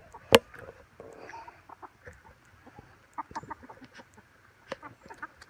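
Farm chickens feed on scattered food with soft, scattered clucks and small pecking sounds, and one sharp loud note near the start stands out over the quiet yard.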